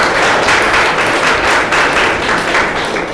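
Sustained applause from an audience at a church leadership training session, dense, steady clapping filling the room at close range for a few seconds with no pauses.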